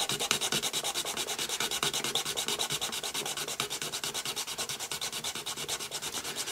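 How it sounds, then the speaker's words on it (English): A hand file rasps steadily back and forth across a plastic part of a vintage Star Wars Millennium Falcon toy, a close, quiet, evenly rhythmic scraping with no voices. "with a bit of filing I've managed to get a nice flat in there"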